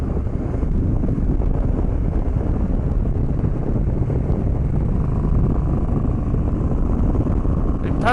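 Suzuki V-Strom 1000cc motorcycle on the road, steady loud buffeting wind roar over the engine drone throughout, with a brief high squeal near the end.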